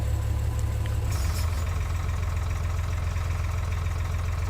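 Tractor engine idling in a farming video game, a steady low rumbling drone that holds constant and fairly loud throughout with no talk.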